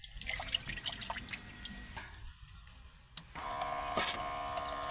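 Light drizzle dripping onto a tent at a beach campsite in Morong, Bataan, with scattered soft taps and drips over a steady hiss that thickens near the end.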